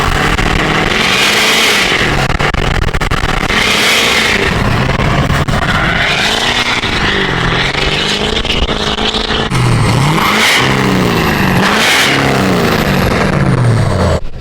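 Duramax diesel pickup revving hard with a loud exhaust stack roar, repeated rising and falling engine sweeps close by over about fourteen seconds, with no talking.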